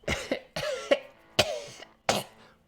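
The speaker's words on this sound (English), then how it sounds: "After a few minutes, you hear another cough." Several harsh, close coughs in quick succession, four or five bursts with brief gaps between them and a throaty, rasping edge, alone without talk.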